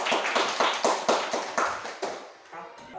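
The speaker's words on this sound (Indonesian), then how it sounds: "Tepuk tangan." A classroom group claps hands together in steady, rhythmic bursts, about ten loud beats repeated in a near pattern, fading slightly toward the end.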